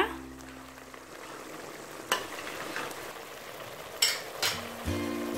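Dal frying in a pan with a soft continuous sizzle, stirred now and then with a few sharp scrapes and clinks of the spoon, close and moderately quiet.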